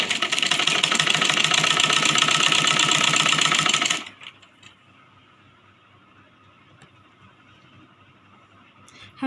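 A sewing machine stitches a folded one-inch fabric strip for a Rajputi kanchali blouse, running loud and steady with a fast rhythmic whir for about four seconds, then stopping and leaving faint room noise.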